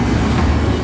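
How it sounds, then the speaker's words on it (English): A train at Truckee rolls past with a loud, close, steady rumble and low clatter of wheels on rails over a brief moment. "Freight and passenger trains still pass through and stop at Truckee every day."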